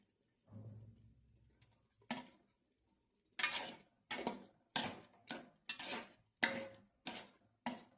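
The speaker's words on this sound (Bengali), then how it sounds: "নাড়াচাড়া করে নেবো।" Spoon scraping and stirring khichuri with ghee and grated coconut in a pot, a series of about eight sharp metallic clanks in a steady rhythm after a low opening rumble, close and fairly loud.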